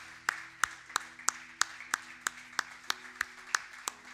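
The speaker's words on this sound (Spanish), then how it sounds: "Dale un fuerte aplauso al Señor." Slow, rhythmic single claps from a church congregation praising God, about a dozen evenly spaced sharp hits over a faint background.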